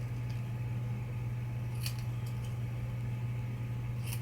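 Scissors cut a paper pennant for a stamped banner, giving a few soft, brief snips over a steady background hum.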